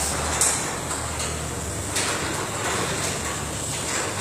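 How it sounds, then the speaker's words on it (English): A newly installed garage door opener runs steadily, the door rolling open with a continuous mechanical hum and faint clicks, no voices over it. "The door opens."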